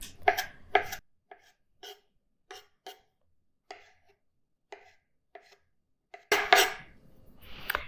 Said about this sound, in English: you just want to cut them into pretty small pieces